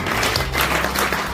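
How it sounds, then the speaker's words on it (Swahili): A church congregation claps hands together, a dense, steady patter of many palms filling the whole moment without pause, close and fairly loud. "Kila mwenye pumzi apige makofi pale alipo kwa jina la Yesu."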